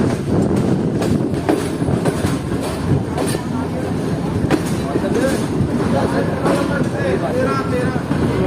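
Train noise at the main platform of Jhelum railway station, a steady rumble with clattering wheel sounds and faint squeals, with crowd chatter and voices mixed in throughout.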